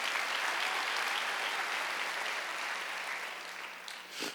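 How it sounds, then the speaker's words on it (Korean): Congregation applauding during a Wednesday church service, a dense, steady clapping that fills the hall for several seconds and tapers slightly at the end. "박수."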